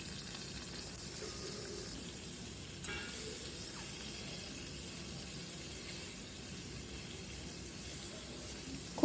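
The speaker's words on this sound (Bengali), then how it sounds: "এবার মাছের মাথাগুলো সুন্দর করে ভেজে নেব" Fresh fish heads frying in oil give off a steady, soft sizzle that holds evenly throughout, with a brief clatter near the end.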